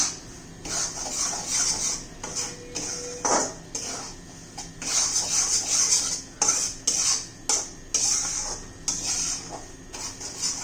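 Semolina roasting in ghee in a pan is stirred with a utensil for a granular sheera, giving steady scraping and clinking strokes in irregular bursts, close and moderately loud with no talking.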